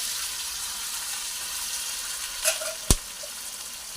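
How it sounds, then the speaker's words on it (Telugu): Chopped tomatoes drop into hot oil with mustard seeds, onions and green chillies, giving a steady close sizzle with a couple of brief sharp spatters and no talking. "ఆవాలు, ఉల్లిపాయలు, పచ్చిమిరపకాయలు, ఇవి వచ్చేసి 300 గ్రాముల టమాటాలు అండి. సన్న ముక్కలు కట్ చేసుకున్నాను. ఇప్పుడు ఇందులో వేస్తున్నాను."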